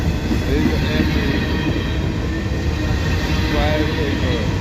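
A long freight train rumbles steadily past nearby, loaded grain hoppers, cement hoppers and tank cars rolling by with a continuous, loud roar of wheels on rail and faint squeals, no pauses in the clatter.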